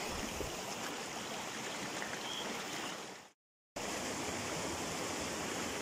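Water rushes steadily down a drain channel beside a girls' high school, a loud even broadband wash that cuts out briefly to silence before resuming.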